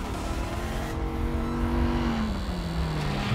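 A modern Dodge Viper SRT engine drones close and steady with a falling pitch as it pulls away, a sustained loud car sound with no voices.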